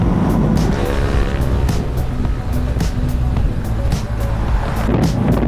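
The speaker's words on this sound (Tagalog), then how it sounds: "Vibrate pala talaga tong NX pag medyo high RPM." An NX car's engine drones loudly and continuously at high RPM, a rough, vibrating roar with road and tire noise, heard from inside the moving car.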